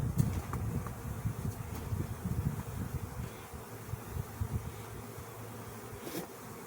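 Honey bees buzzing around an open hive, a close, wavering drone with a few faint knocks, and no talking.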